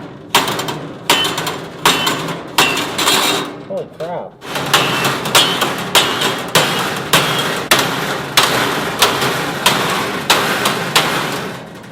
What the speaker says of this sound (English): Do you think a hammer will break this?